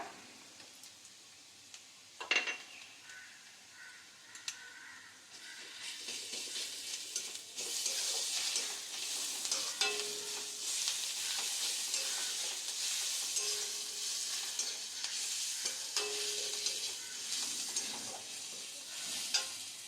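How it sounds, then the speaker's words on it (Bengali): Garlic paste sizzles in a hot pan with fried chopped onions while a utensil stirs and scrapes, starting quieter and building into steady frying. "এরপরে দিয়ে দেবো রসুন বাটা"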